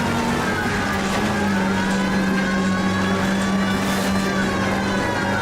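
A car in the video game L.A. Noire drives steadily with a constant engine drone, a siren wailing faintly along with it throughout.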